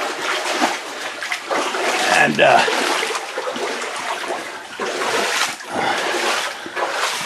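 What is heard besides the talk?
water splashing and trickling in a flooded coal mine passage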